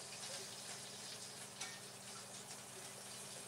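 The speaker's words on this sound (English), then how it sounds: "So these have been frying for a little bit." Pork and fish jiaozi dumplings fry in a pan, producing a steady, soft, hissing sizzle with light crackle that holds at an even level for a few seconds.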